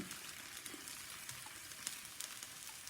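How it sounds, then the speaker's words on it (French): Meat sizzling in olive oil in a hot pan, a steady close crackling hiss with small pops and occasional stirring scrapes throughout. "Je mélange tout et je fais cuire un petit peu la viande"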